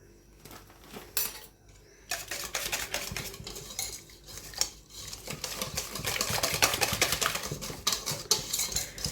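Flan mixture with cornstarch being stirred in a bowl, a busy run of clinking utensil-on-bowl scrapes and taps, close and fairly loud, growing denser toward the end.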